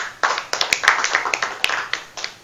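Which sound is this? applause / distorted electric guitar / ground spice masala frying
applause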